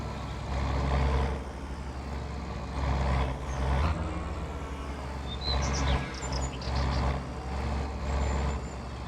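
A 4-cylinder tractor engine in Farming Simulator 22 drones at a steady, rough idle. The low, continuous rumble swells gently at times, and faint birdsong chirps sit in the background.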